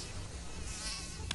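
A mosquito buzzes steadily and close in a Mortein 2-in-1 repellent TV advert, a thin continuous whine with a brief sharp burst near the end.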